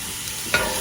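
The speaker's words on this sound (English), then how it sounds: "we will drop our ground beef in that skillet." Ground beef drops into a hot skillet where salted vegetables are already cooking, and a brief burst of sizzling rises over a steady frying hiss, close and loud.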